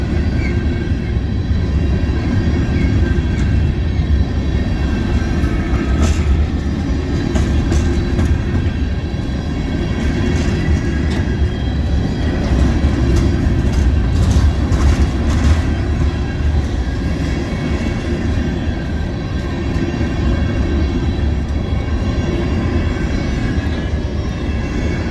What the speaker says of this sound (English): This is the DPU equipped ES44 DC.